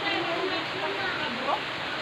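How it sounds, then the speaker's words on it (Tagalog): Heavy rain pours down in a steady, dense hiss that stays loud and unbroken throughout, with no voices over it. "Malakas yung ulan."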